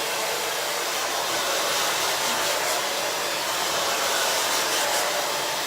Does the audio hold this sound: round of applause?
no